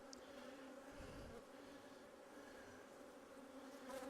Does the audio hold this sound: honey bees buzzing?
yes